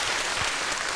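Audience applause at the Barnes Fragrance Fair, a dense, steady wash of clapping from a crowd filling the brief moment without talk.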